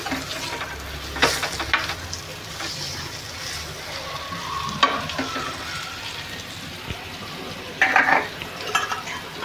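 Indian salmon (rawas) fish fry sizzling in a pan, a steady close crackle broken by a few sharp clanks and scrapes of a turner against the metal.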